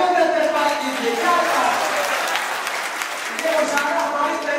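Audience applause at an All India Mushaira poetry gathering in Bhiwandi, a dense, steady wash of many hands clapping throughout, with voices mixed in under the clapping.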